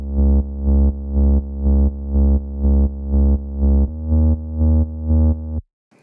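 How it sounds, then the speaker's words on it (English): Deep saw-wave bass synth built in Serum with one unison voice in mono, playing a steady run of about eleven evenly pulsed low notes, shifting tone near the end before cutting off abruptly. "It's just a pretty standard deep saw bass."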